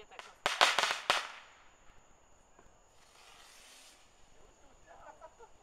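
Firecrackers burst in a quick volley of sharp loud cracks, followed by a fainter hissing fizz and scattered small pops outdoors.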